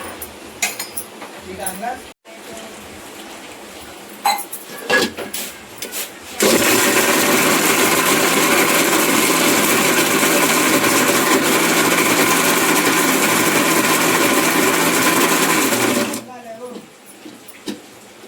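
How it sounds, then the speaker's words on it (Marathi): A mixer grinder grinds crab masala in a loud, continuous whirring roar that runs for about ten seconds and then cuts off, with a person talking and kitchen clatter before and after. "हे बघा मिक्सरला वाटून घ्यायची."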